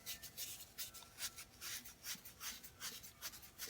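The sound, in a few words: scuffing an old smoking pipe to remove wax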